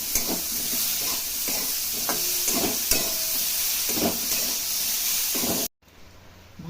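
Food fries in a pan with a spoonful of sugar added, giving a steady sizzling hiss broken by regular scraping stirs, then cutting off abruptly near the end.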